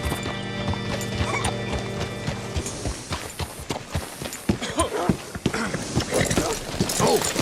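Horse hooves clip-clop at a steady walking pace in Red Dead Redemption, with a brief whinny and scattered game ambience around them; the hoofbeats sound fairly close and clear.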